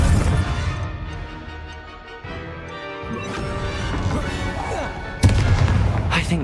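Confringo fire-spell blasts go off in the magic combat of Hogwarts Legacy: crashing, booming impacts over a steady orchestral music bed, ending in a sudden loud burst near the end of the clip.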